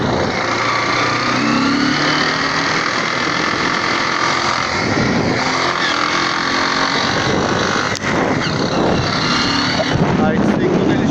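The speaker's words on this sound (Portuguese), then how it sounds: "apareceu esse barulho aqui no motor da moto" A 2011 Honda Titan motorcycle engine runs steadily in first gear with an odd mechanical noise, a constant loud drone mixed with wind rush across the microphone and a brief knock near the end.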